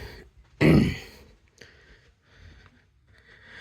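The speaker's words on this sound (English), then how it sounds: "y'all hear me like cough and choke" A single harsh cough or throat-clearing bursts out loudly up close, followed by quieter breathing and small mouth noises.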